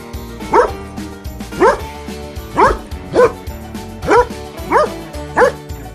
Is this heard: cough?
no